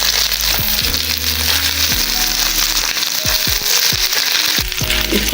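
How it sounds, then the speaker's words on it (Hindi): Chopped ginger frying in hot oil, a steady loud sizzle with crackling pops and the scrape of a spoon stirring it around the pan. "इसको 1 मिनट के लिए मैंने अदरक को थोड़ा पका लेना है ताकि इसका कच्चापन ख़त्म हो जाए।"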